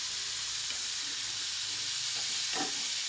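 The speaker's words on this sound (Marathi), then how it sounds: "पनीर मी कशात टाकले तव्यात टाकले तळायला" Paneer fries in oil on a tava with a steady, close, loud sizzle and hiss that runs without a break. One brief stir or pop is heard near the end.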